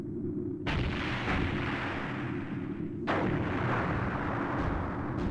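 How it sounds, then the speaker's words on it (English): Cannon fire in the video game Skies of Arcadia: two booming blasts about two and a half seconds apart, each followed by a long rumbling decay, over a low background drone. "It sounds like cannon fire."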